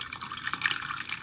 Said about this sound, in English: So now we're gonna start adding a few tablespoons of ice water